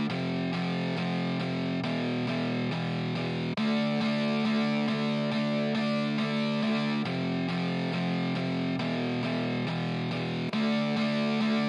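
Electric guitar run through EQ and reverb across the whole signal, playing sustained, chord-like tones with a distorted edge that shift every couple of seconds, loud and continuous with no pauses.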